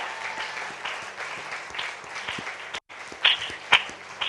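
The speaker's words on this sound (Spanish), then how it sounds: "Eso merece un aplauso y una oración" A church congregation applauds in a dense, steady patter that breaks off for a moment and then returns with a few louder bursts near the end.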